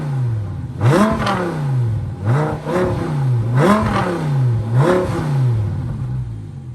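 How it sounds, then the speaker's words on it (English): A 2015 Audi R8 V10 Spyder with an X-pipe exhaust revs four times in close succession, each blip rising sharply and falling back to idle, loud and close with no talking. "let's go ahead and rev this beautiful V10 up here."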